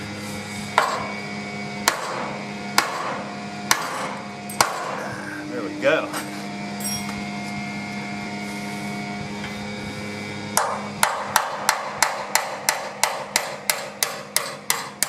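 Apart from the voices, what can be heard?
hammering on a K5 Blazer frame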